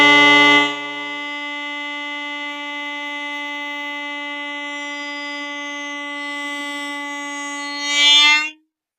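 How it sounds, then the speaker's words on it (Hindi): Two homemade bugles made from PVC pipe and balloons sound together as one loud, steady horn-like tone, like a train horn. It holds for about eight seconds and swells briefly at the end before stopping. "अब हम दोनों ब्यूगल साथ में बजाते हैं।"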